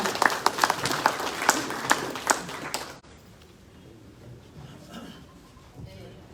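Audience applause at a disaster risk management seminar for elected officials: scattered claps fill the first three seconds, fairly loud, then drop away to a quiet, murmuring room.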